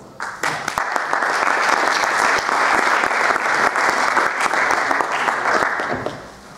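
A room of people breaks into applause, clapping building quickly, holding steady for several seconds, then fading out.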